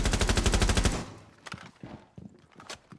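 SMG-11 submachine gun with an ACOG sight firing in Rainbow Six Siege: a loud, rapid automatic burst for about a second, then scattered softer impacts and clatter.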